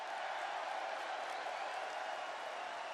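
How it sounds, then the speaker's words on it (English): Wrestling arena crowd in the video game WWE 2K26, a steady, dense roar of cheering spectators that stays loud and even throughout, with no single voice standing out. "The crowd is on its feet."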